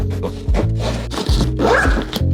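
Zipper on a backpack's large rear pocket being drawn open, heard as several loud, close, rasping pulls in quick succession.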